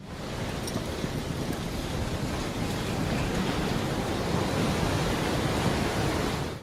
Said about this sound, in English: Despite the safety walls, the waves crashed over them, pouring into the harbor